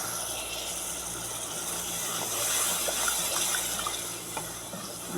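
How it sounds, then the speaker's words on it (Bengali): A small splash of water poured into a pan of spice masala being fried for chicken curry, giving a steady, close hissing gush that holds evenly throughout with no talking. "সামান্য একটু পরিমাণ পানি দিয়ে দিলাম মশলাটা কষানোর জন্য।"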